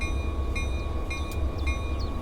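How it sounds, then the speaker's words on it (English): A mechanical locomotive bell in a train simulator game rings in slow, even strikes over a constant low engine hum, with whistling tonal noises in the background. "Sounds like a mechanical bell at least."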